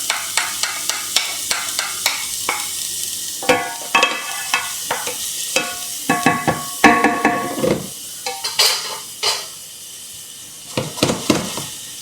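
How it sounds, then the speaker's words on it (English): Shallots and garlic dropped into hot olive oil for a pumpkin and chorizo risotto, giving close crackling sizzle with repeated sharp stirring scrapes and clatters, loud and steady throughout with no talk. "olive oil is hot, so what we're going to do here is just add the shallots and garlic"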